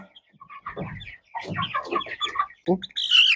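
Chickens cluck nearby in short, scattered bursts, with a brief higher squawk at the end.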